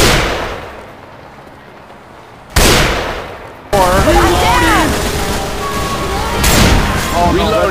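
Gunfire in Left 4 Dead 2, with a faint rumble followed by two loud, sharp shots and blasts, then ongoing combat noise with voices and game sounds underneath.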